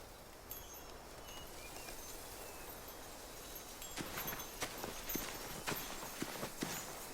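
Horse hooves in The Walking Dead: The Final Season game clip-clop faintly in an outdoor scene, starting sparse then settling into a quicker uneven rhythm of sharp knocks over a quiet rustling background.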